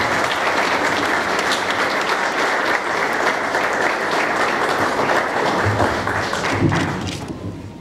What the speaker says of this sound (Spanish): presbítero Julio Alejandro Barrios, para quien pido un fuerte aplauso en este momento, por favor.